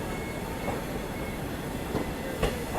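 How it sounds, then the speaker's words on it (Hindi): A passenger special express train running from Naharlagun toward Hapa rolls into a station with a steady rumble and faint rhythmic wheel clicks, moderately distant, with no one talking. "यहाँ नाहरलगुन से चलकर हापा की ओर जाने वाली परमानेंट स्पेशल ट्रेन आ चुकी है।"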